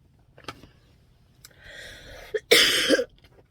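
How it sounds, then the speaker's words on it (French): A person nearby coughs, with a brief throat-clearing rasp before a louder, harsher cough burst at the end. "Bon non là je tousse encore un peu."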